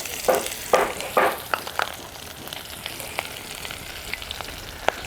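Chopped onion dropped into hot oil with cumin seeds and bay leaves for a fish posto bursts into a few loud sizzling splashes, then settles into scattered crackles and pops, close and without speech.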